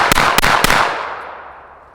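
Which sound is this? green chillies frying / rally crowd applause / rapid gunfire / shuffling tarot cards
rapid gunfire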